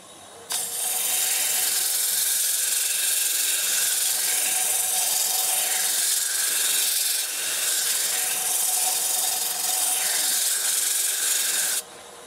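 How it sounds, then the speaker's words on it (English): A walnut bowl spinning on a wood lathe while abrasive paper is pressed against it gives a steady, close, hissing rasp that holds for about eleven seconds and then stops abruptly. "we'll do a little bit of sanding now"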